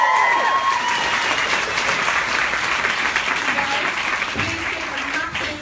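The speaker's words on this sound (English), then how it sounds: "Please give a massive round of applause" A large audience claps steadily and loudly in sustained applause, with scattered cheers on top, at a business opportunity interview event; the ovation holds at full strength throughout and dips slightly at the very end.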